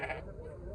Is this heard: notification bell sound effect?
no